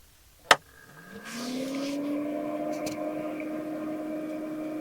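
A Mosquito Magnet propane mosquito trap is switched on with a single sharp click, and its fan spins up into a steady, rising whir that settles into a continuous close hum.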